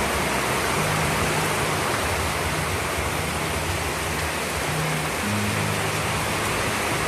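Heavy rain pours down in a dense, unbroken hiss, loud and steady throughout, with faint low hums buried underneath.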